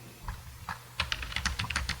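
Keys on a computer keyboard clicking in a quick irregular run of soft taps, faint and close, with no voices.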